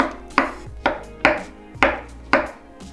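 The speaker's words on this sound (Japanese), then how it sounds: "あまり細かくみじん切りにはしないで" Mushrooms being coarsely chopped with a knife on a cutting board, five distinct, evenly spaced thuds about half a second apart, close and crisp with no talking.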